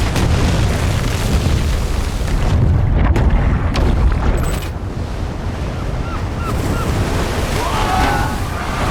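Chain explosions on a river in a shark horror film: loud, deep rumbling booms roll into churning water and wind-like rushing, then ease to a lower, steadier wash.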